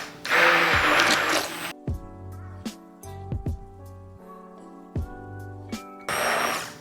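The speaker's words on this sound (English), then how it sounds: "put the blender in, power on." An immersion blender runs in a bowl of cake glaze, whirring loudly for about a second and a half at the start and again near the end, with gentle clinks and quiet stirring between the bursts.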